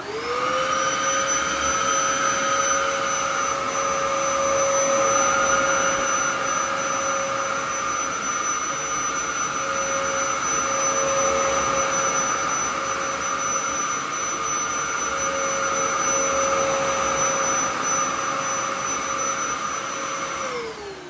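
A Dyson DC07 vacuum cleaner runs on its bare floor setting with suction only, a loud, steady motor whine with a sustained high tone that holds for about twenty seconds before winding down at the end.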